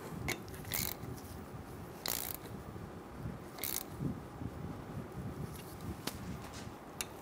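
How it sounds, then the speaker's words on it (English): A hand ratchet clicks in short, sparse bursts while tightening a front brake caliper union bolt on a 2014-2018 Chevrolet Silverado 1500, faint and close in a quiet workshop. "Snug the union bolt down."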